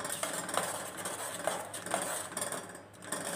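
Spoon stirring lima bean curry in a cooking pot, soft scraping with a few light metallic clinks at irregular intervals, close and fairly quiet, with no talking.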